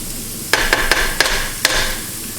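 Onions sizzling in a pan while a utensil stirs and scrapes them, a steady frying hiss broken by five sharp clacks of the spoon against the pan's edge, close with no speech.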